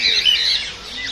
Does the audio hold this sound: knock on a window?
no